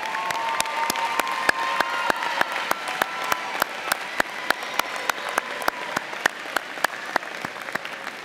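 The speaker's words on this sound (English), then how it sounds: "Give them a round of applause." A graduation ceremony audience applauds steadily throughout, dense, continuous clapping from a large crowd with sharp individual claps standing out near the front.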